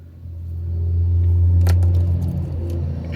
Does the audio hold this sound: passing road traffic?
yes